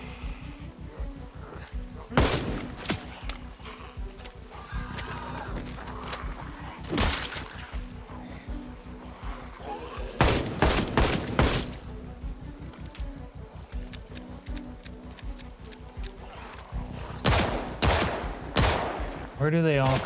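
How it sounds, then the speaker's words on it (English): Rapid bursts of gunfire from the zombie survival video game Project Zomboid, with repeated loud volleys and machine-gun-like fusillades spread through the stretch over a steady background. "Making me shoot my own vehicle now."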